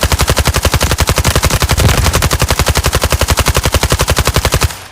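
Sustained automatic fire from an AUG assault rifle in the shooter game Delta Force, a loud steady stream of rapid shots in an even rhythm for about five seconds before stopping abruptly.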